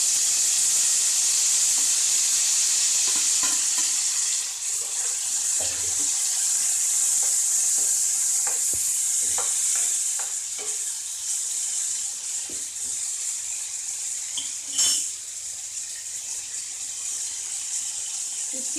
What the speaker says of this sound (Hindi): सबसे पहले हम टमाटर ऐड करेंगे इसमें